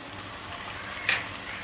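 Onion, garlic and ginger frying in a pan for a small taki fish dish, giving a close, steady hissing sizzle throughout with one brief louder crackle partway through; no one speaks.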